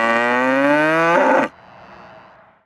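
Cattle being fed on a farm in winter, one loud, close, drawn-out moo with rich harmonics that stops abruptly, followed by quieter rustling ambience.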